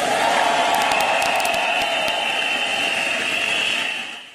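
A large audience at the Reliance annual meeting breaks into loud, continuous applause and cheering for the JioPhone launch. The dense roar of the crowd holds steady for about four seconds with scattered sharper claps, then tapers slightly at the end.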